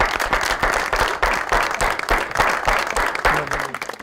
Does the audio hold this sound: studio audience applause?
yes